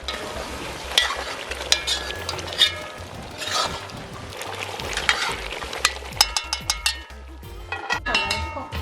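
A pot of curry duck on a coal pot stove bubbles and sizzles steadily up close, with occasional clinks and scrapes of a spoon against the pan.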